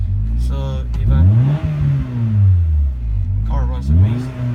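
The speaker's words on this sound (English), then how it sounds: "You can see the car, it goes up and down on RPM because basically when it does that, because the car is running cold." Cold-running 1994 Acura Integra LS engine idling with its revs rising and falling, a steady close rumble that swells and dips, while a person talks over it.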